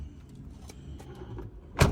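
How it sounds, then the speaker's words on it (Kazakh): A car's electric power windows whir in a low, steady motor hum inside the car, ending with a short, sharp thump as the window closes. "Айнектер электр көтөргүчтө өзү көтөрөт."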